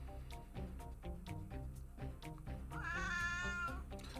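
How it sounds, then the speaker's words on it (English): A cat named Tex lets out a loud, drawn-out meow about a second long, close by, over steady background music with a regular beat. "Tex is a loud cat."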